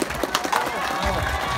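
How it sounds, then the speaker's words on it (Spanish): Crowd clapping outdoors at the inauguration of a newly paved street, Jr. Mariscal Cáceres: a brief burst of applause with a voice calling out over it. "¡Esos aplausos!"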